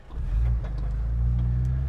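Off-road vehicle engine climbing a hill with the front locker engaged and rear locker out, holding around 1200 RPM in a steady, deep, close drone after a brief rise at the start, with no talk.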